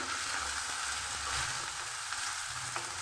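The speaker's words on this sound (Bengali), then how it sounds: "এই সমস্ত উপকরণগুলো আমি লাল করে" Chopped garlic and green chillies fry in hot oil, giving a steady, close, hissing sizzle that runs unbroken for a few seconds with no voices.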